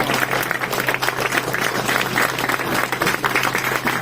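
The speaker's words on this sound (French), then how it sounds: "Je vous demande d'applaudir Mathieu et Marc-Auguste qui vous serviront à boire." Sustained applause from the audience at an evening gala celebrating a company group's 20th anniversary, dense and steady throughout with a low constant hum underneath.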